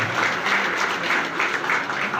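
An audience claps to welcome a ward councillor at a community gathering, a steady patter of many hands in even, moderate-volume applause.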